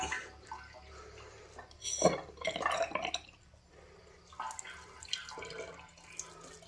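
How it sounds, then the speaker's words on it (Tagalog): A leaking bathroom sink faucet drips in a farmhouse, faint watery drops and trickles heard close by with a few louder splashes in a quiet room. "ayan, tumutulo din yung sa lababo."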